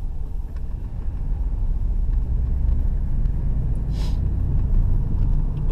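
A car rolls to a gentle, easy stop to seat freshly adjusted drum brakes, with a steady low road and engine rumble throughout and a brief faint squeak near the end.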